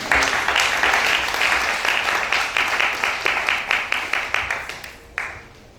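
A church congregation applauds the Lord with dense, steady clapping that gradually thins into sharper individual claps before dying away.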